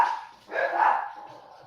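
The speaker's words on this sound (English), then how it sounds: "sorry, my dog's barking." A pet dog barks in a couple of close bursts indoors, fairly loud, with a voice talking around the barks.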